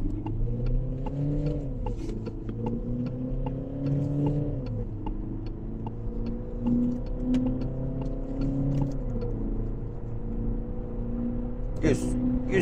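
An SUV in sport mode accelerates hard from standstill for a 0-100 km/h run: a close, steady engine drone climbs in pitch, drops at each of two gear shifts, then climbs again.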